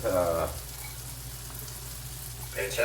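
Shallot, garlic and guanciale fry steadily in a pan, giving a soft, continuous sizzle close by, with bits of speech-like sound at the start and end.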